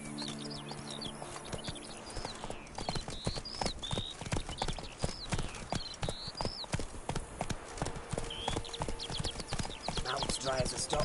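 Roach, a horse in The Witcher 3 video game, trots with a brisk, steady clip-clop of hooves over bird chirps and other in-game sounds, with a voice speaking briefly early on.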